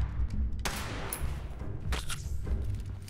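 Pistol fire from the game Fallout 76, a few sharp reports standing out over a dense, rumbling backdrop of game noise, fairly loud and close.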